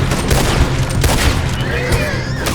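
Rapid return gunfire crackles in Red Dead Redemption 2 during a western shootout. Loud, dense volleys of overlapping shots and booms arrive close by, with faint shouting mixed in.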